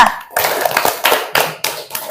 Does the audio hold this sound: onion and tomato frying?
no